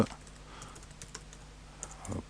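Someone types a letter on a computer keyboard, producing a quiet, irregular run of close key taps with brief pauses between them.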